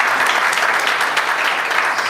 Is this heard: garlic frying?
no